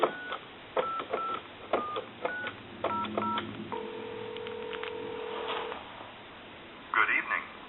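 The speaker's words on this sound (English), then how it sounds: "And I'm going to dial time and temp." A Kellogg wood wall telephone dials the time-and-temperature line: a series of short beeping tones in irregular groups, then a steady line tone, a few clicks and a burst of sound at the end, heard over light room noise.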